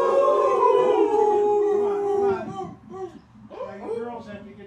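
People imitate dogs with voices, a sustained group howl that rises and then slides down, breaks off, and gives way to a few shorter, ragged howls.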